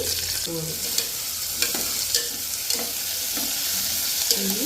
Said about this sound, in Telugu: అవి ఫ్రై అయిన తర్వాత ఆనియన్స్ వేసుకోవాలండి